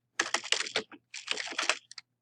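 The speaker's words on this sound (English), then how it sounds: "So I'm gonna just start typing Healthy Eating Pyramid" Fast typing on a computer keyboard, two quick bursts of close, crisp key clicks separated by a short pause.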